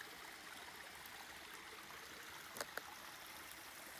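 A small waterfall in the Norwegian mountains pours with a steady, faint hiss of falling water, broken by a couple of brief clicks near the end.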